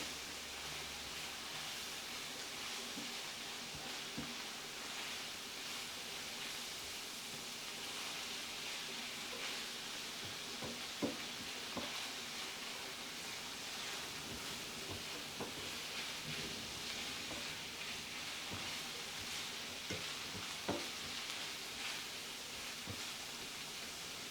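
Mexican rice sizzles in a skillet as it is stirred: a steady, soft hiss runs throughout, broken by scattered light scrapes and clicks from the stirring.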